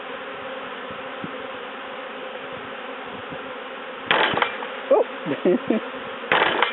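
Honey bee swarm being shaken from a top bar hive, a steady dense buzzing throughout, joined near the end by louder bursts and knocks as a single voice exclaims briefly.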